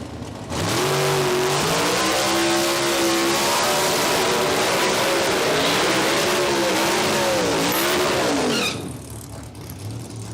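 Outlaw nitro funny car drag racers with screaming small-block engines launching at Palmyra Dragway, a loud sustained roar rising and wavering in pitch for about eight seconds before cutting off abruptly.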